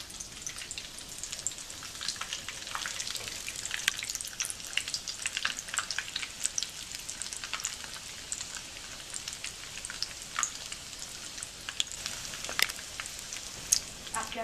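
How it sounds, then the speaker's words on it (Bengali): Mixed vegetable and mince meat rolls deep frying in hot oil on medium heat give a soft, continuous crackle and hiss, fairly faint and steady throughout, with no voices. "এখন আমি রোলগুলো এক এক করে তেলের মধ্যে ভেজে নিব।"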